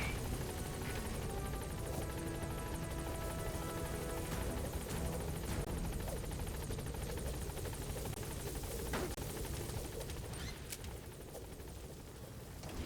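Pequod helicopter in Metal Gear Solid V, its rotor roar steady and loud through the whole stretch as it arrives at the landing zone, a dense continuous wash with no voices.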